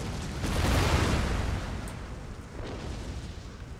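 Artillery cannon fire in the Empire Total War video game, a muffled booming roll of distant shots swelling and fading over a few seconds, with no talk.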